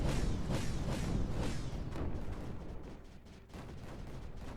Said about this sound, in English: Fire across. More mortars wouldn't hurt.